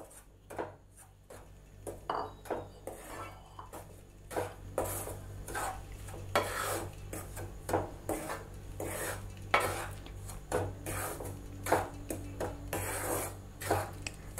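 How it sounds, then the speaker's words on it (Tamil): Rice flour for sweet pidi kozhukattai is dry-roasted in a heated pan, with a spoon scraping and stirring it in repeated close strokes that knock against the metal. The scraping comes in irregular bursts with no talking. "1 கப் அரிசி மாவை சேர்த்து நல்லா வறுத்தலாம்."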